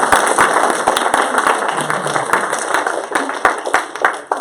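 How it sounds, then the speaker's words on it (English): Audience applause at a law and public safety forum, close and fairly loud clapping with distinct sharp individual claps standing out from the crowd, fading slightly near the end. "Big round of applause"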